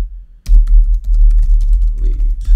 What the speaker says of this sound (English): as you can tell, don't mind the typing